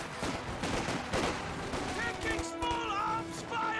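Company of Heroes 2 infantry fire from four windows, a dense crackle of small-arms shots, with a commentator talking steadily over the shooting.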